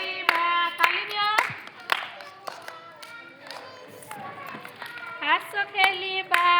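Children clap their hands in short bursts while singing together in a classroom activity song, with claps scattered among the sung phrases.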